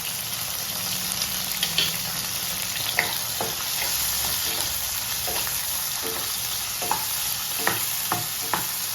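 Chopped tomatoes fry in a pan for peanut chutney, giving a continuous bright sizzle with scattered scrapes and clicks from stirring, close and alone without voices.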